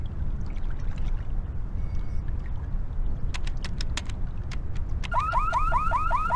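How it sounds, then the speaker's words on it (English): A car-style alarm in The Longest Journey video game starts up near the end, repeating a rising electronic whoop in a steady rhythm over a low background rumble, preceded by a few sharp clicks. "The alarm is active."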